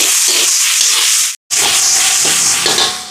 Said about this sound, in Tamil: இப்போ வெங்காயமெல்லாம் வதங்கிட்டு தக்காளி பழம் சேர்ப்போம்.